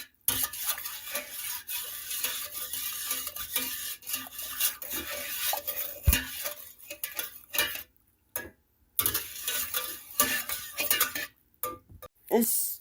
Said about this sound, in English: Kind of cheat and use my masher to mix this sugar.